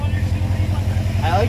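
Subaru boxer exhaust fitted with a Thrush muffler and unequal-length headers, burbling with a low, rhythmic loping throb close by, while people talk over it.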